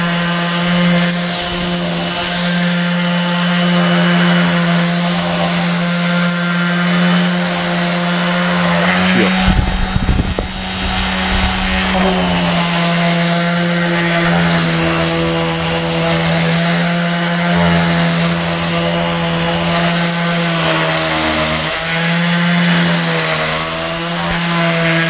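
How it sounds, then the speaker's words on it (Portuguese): A random orbital sander works wood pieces for a new residential build, giving a loud, steady, close motor whine that holds nearly unbroken for the whole stretch, with a brief rougher burst partway through. "Você liga a máquina, rota orbital, e você vem dando um acabamento perfeito na máquina."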